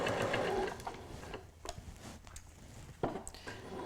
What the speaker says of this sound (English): I'm going to stitch, and I'm starting not at a corner, I'm starting sort of midway down one side edge.